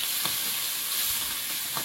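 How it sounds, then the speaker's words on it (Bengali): Fish frying in oil in a wok, making a short, steady sizzle that stays even throughout, with a couple of faint soft bumps. "দিয়ে মাছগুলো ভাজবো।"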